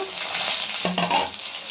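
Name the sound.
chopped tomato added to frying taro, sizzling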